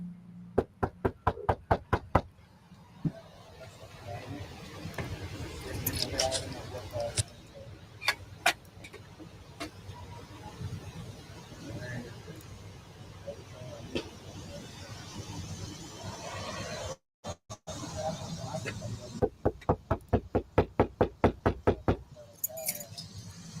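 Someone knocks on a door during a court eviction. Rapid runs of hard knocks open and close the passage, with scattered single raps, rattling and background noise between them.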